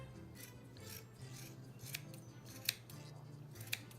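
Scissors snip and rasp faintly while a yarn pom pom held in a Pom Pom Trim Guy tool is trimmed, giving soft repeated cutting strokes with a few sharper snips over a low steady hum.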